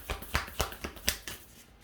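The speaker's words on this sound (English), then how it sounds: "These cards are hard to shuffle because they're heart-shaped" Heart-shaped oracle cards being shuffled, a short run of about six soft, quick riffling slaps in a loose rhythm, close and quiet with no talk.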